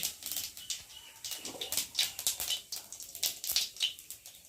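Cumin seeds sizzle and crackle in hot oil in a wok for fish curry tempering, rapid irregular pops and spits close by with no talking.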